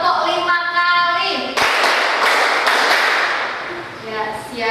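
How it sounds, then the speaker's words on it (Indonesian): A classroom of students clapping hands together in unison, a loud close burst of rapid claps in the middle, with voices speaking before and after. "Tepuk 5 kali."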